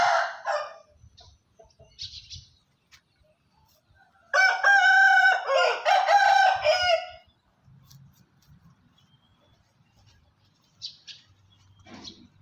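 A gamecock rooster crows loudly once in a long, ragged call, with a few fainter clucks and calls before and after in otherwise quiet morning surroundings.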